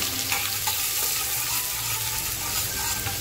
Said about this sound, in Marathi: जो कांदा कापून घेतलाय तो कांदा टाकते.